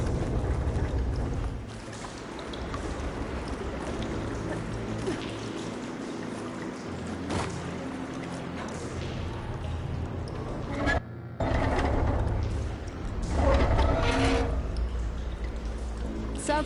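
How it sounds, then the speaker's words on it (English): Water pours and flows through pipes after a valve is opened in the Horizon Forbidden West video game, a steady rushing stream with a brief break, under game ambience and a voice speaking. "Aloy, I can hear water in the room again."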